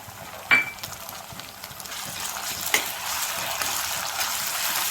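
Chopped onions with ginger garlic paste frying in hot oil while being stirred, a steady close sizzle with a few clinks of the spoon against the pan, no talking.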